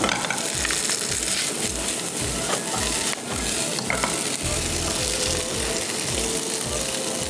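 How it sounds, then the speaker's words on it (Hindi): Chargha ingredients sauté in a hot pan with black pepper and parsley, giving a steady loud sizzle broken by repeated rhythmic scraping and stirring strokes from a utensil. "इसको हम सही से सौते करेंगे।"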